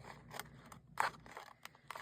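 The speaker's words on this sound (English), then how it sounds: "I'm going to try and cut around it carefully." Scissors snipping around a rub-on transfer butterfly, with a few quiet, close crisp cuts and crunches in an irregular rhythm.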